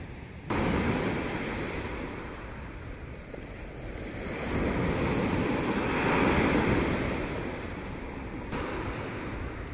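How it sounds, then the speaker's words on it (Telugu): Pacific Ocean surf rolls onto the Shimizu coast in Japan with a continuous roar that swells and recedes, mixed with wind buffeting the microphone, loud and close with no voices. "అలల హోరు చక్కగా ఉంది కదా, వినడానికి మ్యూజికల్గా అనిపిస్తుంది నాకైతే"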